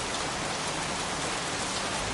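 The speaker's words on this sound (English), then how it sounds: "Goddamn rain, soaking wet." Dense, steady rainfall hissing evenly on surfaces, a constant wash of noise with no pauses, game audio from Heavy Rain.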